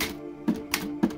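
An L.C. Smith Super Speed typewriter, a blank-keyed teaching model, is typed on in three sharp, evenly spaced keystrokes, close and clear, with no speech.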